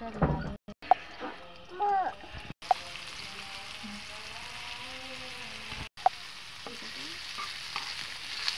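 Potatoes fry in oil in a pan with a soft, steady sizzle and the occasional scrape of stirring, while a voice briefly speaks near the start.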